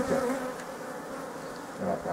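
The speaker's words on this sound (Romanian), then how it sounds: "Grila este ocupată acum de albine, trebuie să o suflăm un pic." Honeybees swarming over the entrance grid of a beehive make a dense, steady buzzing drone. It is close and continuous, with no talk.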